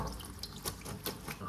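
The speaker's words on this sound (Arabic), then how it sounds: "نحط عليها شوية مية ساقعة عشان خاطر ايه متعجنش مننا." Cold tap water pours onto cooked pasta in a home kitchen, a short splashing run of water with a few louder gushes and no one talking.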